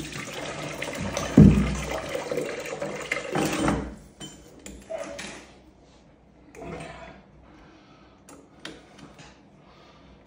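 Water drains out of a household radiator during a valve replacement, with a loud splashing gush for a few seconds, then lighter trickles, drips and small clunks of metal fittings close by.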